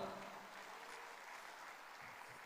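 Faint, steady applause from a crowd at a recognition ceremony, a soft continuous patter of clapping lasting a couple of seconds with no voices over it.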